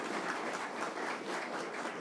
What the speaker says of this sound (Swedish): hon får en applåd